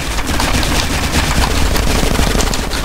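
A minigun in GTA San Andreas fires continuously, a loud, rapid, unbroken rattle of shots that holds steady for the whole stretch with no talk.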